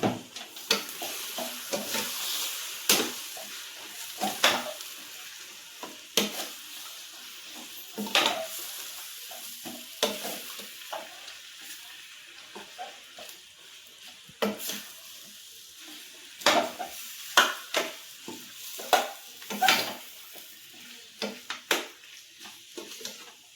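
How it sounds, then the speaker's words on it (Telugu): A spoon works masala into chicken curry in a pan, with repeated scraping strokes and clinks in an uneven rhythm over a soft, continuous frying sizzle, close and fairly quiet. "ఇప్పుడు ఆ మసాలానంతా కలుపుదాం."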